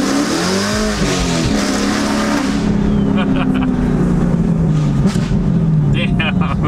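A powerful car engine revs hard and loud at close range, its pitch climbing and falling, while voices exclaim excitedly over the roar.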